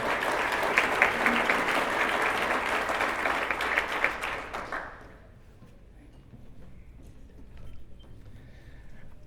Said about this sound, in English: Give him a round of applause as he makes his way up